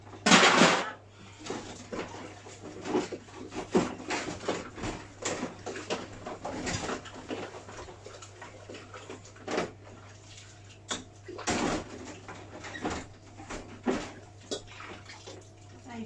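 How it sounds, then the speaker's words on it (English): Water running while a mixing bowl is washed in a kitchen after cupcake baking, with a steady splashing flow, clattering knocks of the bowl and a louder gush near the start, close up. "I'm just going to quickly give this a wash."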